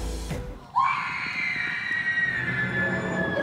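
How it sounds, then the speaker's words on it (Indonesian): A long, sustained high-pitched scream from a scene in the Indonesian horror film Kisah Tanah Jawa rises suddenly after a low rumble and holds steadily for several seconds, loud and piercing. "itu siapa ya? Teriakan siapa ya?"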